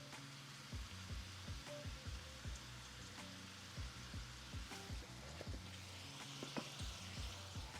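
Steak frying in a pan, a soft steady sizzle with light crackles and occasional clicks and taps, faint and close with no speech.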